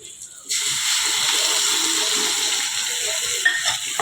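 Ground tomato paste hits a hot pan for chana masala and sizzles with a broad, steady hiss that starts abruptly and holds loud and close, with a few brief spatters near the end.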